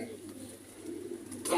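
A Sialkoti pigeon coos in a soft, low, brief murmur close by, with a brighter rustle at the end.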